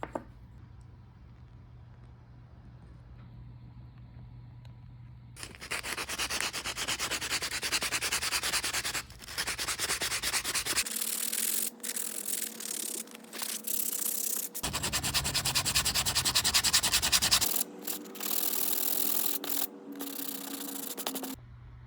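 A wooden jerkbait fishing lure is sanded smooth, with long, close rasping strokes starting after a quiet opening and broken by a few short pauses.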